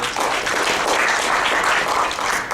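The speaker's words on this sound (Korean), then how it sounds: "박수 한번 드리십시오" An audience at a university lecture applauds steadily, dense clapping from many hands that fills the whole stretch without pause.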